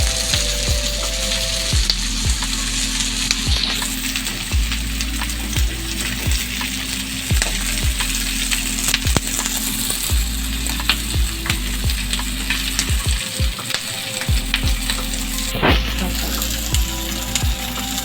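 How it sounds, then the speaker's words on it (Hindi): Potatoes and onions frying together in a pan send up a strong, steady sizzle close at hand, broken by frequent sharp scrapes and taps of a stirring spoon, with no talk over it. "अब मैं इसमें डालूंगी सारे आलू। एक साथ इसको फ्राई करेंगे हम।"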